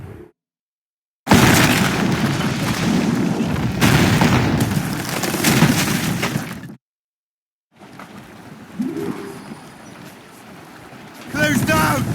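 Heavy booms of ship cannons firing in an Assassin's Creed Rogue naval battle, heard in two loud stretches over rushing wind and sea noise, with shouting voices between.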